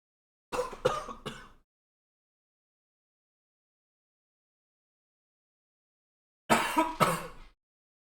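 A streamer's cough button triggers two separate bursts of coughing, each made of three quick rough coughs, with silence between them.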